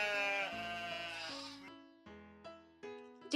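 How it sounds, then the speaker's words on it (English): Sheep bleating in a few wavering calls over a steady musical backing, loud and close at first, then shorter bleats spaced out toward the end. "S for sheep."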